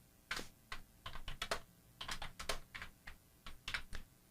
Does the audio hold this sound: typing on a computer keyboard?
yes